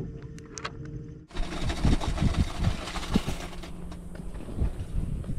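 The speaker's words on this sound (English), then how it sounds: "I will use the electric motor to stay in the shallow and cast far." An electric motor on a saltwater fishing boat switches on abruptly after about a second, then runs as a steady, close, broadband whir with a rougher churning undertone.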